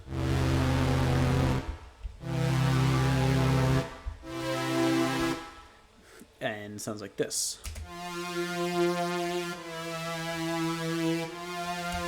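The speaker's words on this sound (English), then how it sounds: "Next is this other synthesizer here, synthesized strings." Sustained synthesized string chords layered in a remix, shifting every couple of seconds, briefly interrupted by a short spoken phrase before the chords resume.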